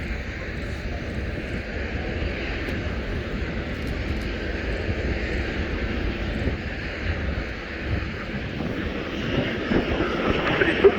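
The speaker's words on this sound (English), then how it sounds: "it's a safe landing for the C-130" A C-130 transport plane comes in to land while two Typhoon jets fly overhead at an air show, a broad continuous engine roar that holds steady and swells slightly toward the end.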